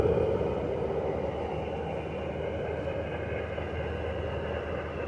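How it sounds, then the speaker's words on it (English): A helicopter passes overhead during outdoor gold prospecting at a culvert, a steady low rumbling drone heard from a distance that stays constant and fairly quiet throughout. "That helicopter's loud."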